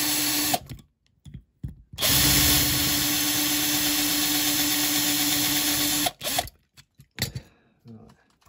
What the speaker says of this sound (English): we'll drill out the rivets